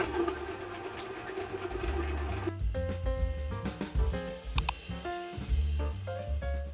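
Sewing machine stitching a balaclava hood, a close rhythmic mechanical chatter with stops and restarts and a few sharp clicks between short runs.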